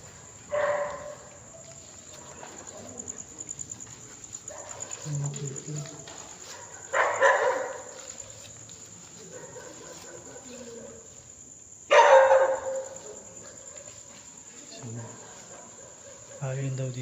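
Dogs bark in scattered bursts at a distance, a few separate outbursts spread over a steady high insect whine, with faint voices nearby.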